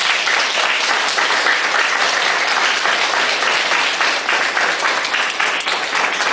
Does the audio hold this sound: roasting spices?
no